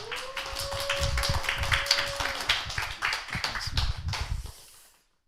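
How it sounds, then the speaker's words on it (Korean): A church congregation claps steadily for about five seconds welcoming a pastor, a dense patter of hands with a sustained tone underneath for the first half, then fading out. "우리 목사님 나오실 때 우리 큰 박수로 환영하겠습니다."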